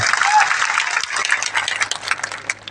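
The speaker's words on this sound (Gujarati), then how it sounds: "અહીં ઉપસ્થિત થયેલા તમામ પોલીસ અધિકારીઓ માટે પણ જોરદાર તાળીઓ પાડી લઈએ" Audience at a political rally claps loudly for the police officers on duty, a dense and sustained burst of applause with faint crowd murmur beneath.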